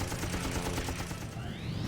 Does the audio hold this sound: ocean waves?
no